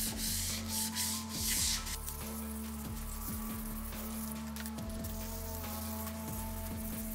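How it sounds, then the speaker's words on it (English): Steady rhythmic scuffing of a plastic front lip spoiler surface with an abrasive pad, rapid close rubbing strokes repeating throughout over a faint mechanical hum. "Just scuff up where you're going to actually be painting."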